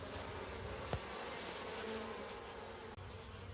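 Honeybees buzz in a dense, continuous hum while being removed from a dune buggy, close and steady throughout, with a brief tap partway through.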